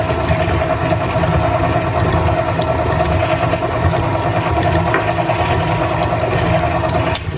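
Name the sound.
stand mixer mixing banana bread batter with eggs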